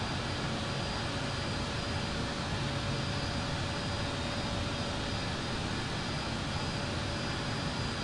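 Airbus A220-200 jet landing in the RFS flight simulator game, a steady, dense roar of engine and airflow noise that stays loud and unbroken throughout, with no talk.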